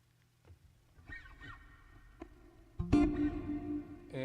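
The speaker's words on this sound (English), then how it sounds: "There's a tape echo." Scattered soft synth blips repeat and smear through a tape echo, then a loud sustained synth note swells in and rings on with echoing repeats, with no voices.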